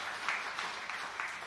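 Applause rises from a church audience praising Jesus at an Indonesian worship gathering, a steady wash of many hands clapping at moderate level with faint swells and no speech over it.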